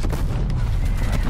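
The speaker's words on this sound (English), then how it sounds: "Hostile artillery targeting active." A heavy artillery strike rumbles in the shooter game Call of Duty Black Ops Cold War, with a loud, continuous low boom and rolling blast noise filling the whole short moment.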